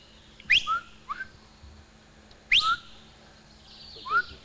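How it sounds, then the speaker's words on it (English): A person whistles outdoors in short rising and falling calls, a few sharp bursts spaced over several seconds against a quiet background, with no talk over them. "I'm gonna whistle"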